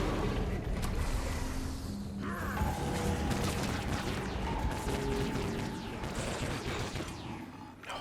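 Rapid bursts of pistol gunfire crackle through a video game fight, shots stacking into dense volleys over a steady wash of background noise, with no talking.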